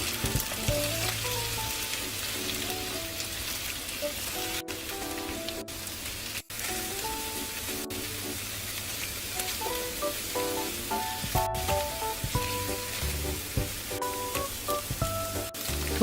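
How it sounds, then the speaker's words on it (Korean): Tofu pan-frying over medium heat, a steady crackling sizzle that stays close and loud throughout, with no talking over it. "이렇게 넣고 중불에서 앞뒤로 노릇하게 잘 구워주세요"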